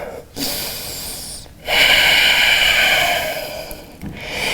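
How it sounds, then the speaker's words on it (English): Slow, deep breath taken during a yoga handstand strength flow, with a soft airy inhale followed by a longer, steady exhale, close and alone with no talk. "find 1 last full inhale, exhale"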